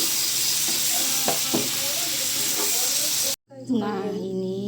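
Beef stirred into a hot pan for sambal sizzles steadily, with scraping strokes of the utensil for the first few seconds before a brief cut to a closer, louder sizzle.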